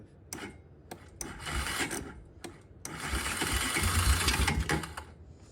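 A Honda Recon TRX250 ATV engine after carburetor and valve repair revs in short bursts, a few quick blips then a longer sustained rise of rough, rasping mechanical noise close by, with no talking.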